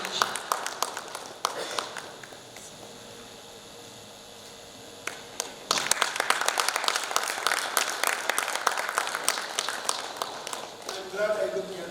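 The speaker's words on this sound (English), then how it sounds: "A huge round of applause for our guest of honor and his very candid speech." Audience at a design event applauds the guest of honor, clapping that starts sparse, pauses briefly into quieter room noise, then swells into fuller, sustained applause.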